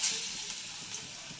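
Pointed gourd (potol) kofta patties drop into hot oil in a kadai and fry with a soft, steady sizzle, fairly faint and alone.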